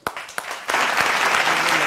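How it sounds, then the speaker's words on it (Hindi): Studio audience applause on a cricket-themed television show starts after a few sharp claps and swells into steady, fairly loud clapping that fills the rest of the moment. "तालियां!"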